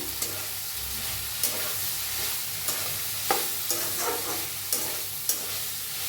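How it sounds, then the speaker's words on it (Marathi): Karela (bitter gourd) sabzi stirred in a pan with a spatula: a steady soft sizzle runs throughout, broken by a series of sharp scraping clinks every second or so, with no one talking. "बघा 5 मिनिटं झाले, ते मस्त शिजायला लागलेत बघा। हलवून घेऊया।"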